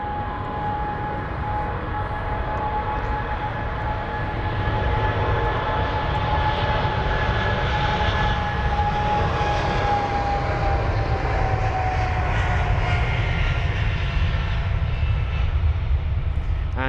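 A 24-year-old British Airways Boeing 777-200ER, registration G-VIIV, flight BA125 from Bahrain, at London Heathrow gives off a continuous loud jet roar with a high engine whine that slowly drifts in pitch.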